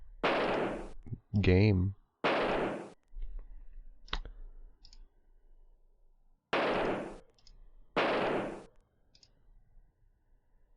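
Sharp gunshots fired while hunting in a western-themed video game, four loud broadband blasts in two spaced pairs, with brief clicks and a spoken word between them.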